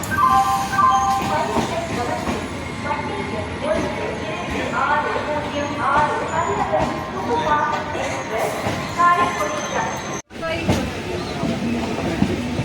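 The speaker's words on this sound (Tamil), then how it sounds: "நமது ரயில் ஸ்ரீரங்கம் ரயில் நிலையத்தை விட்டு புறப்பட்டு விட்டது" Pallavan SF Express pulling out of Srirangam railway station, recorded on board: a loud, continuous rumble and clatter of the moving train with passenger voices and station noise mixed in, briefly cut near the end.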